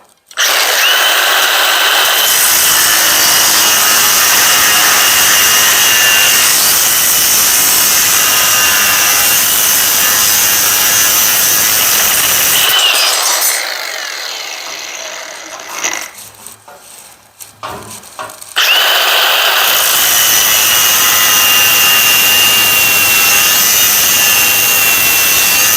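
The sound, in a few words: grinder cutting two flat straps at once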